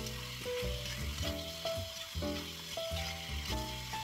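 Broccoli and pork belly stir-fried over high heat in a pan, with a steady loud sizzle and repeated scraping stir strokes over a tonal musical background; no one speaks.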